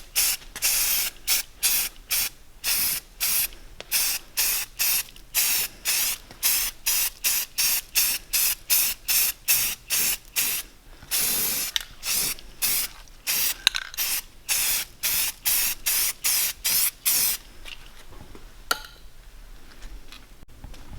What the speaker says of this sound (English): I just sprayed the heavy coat of primer on it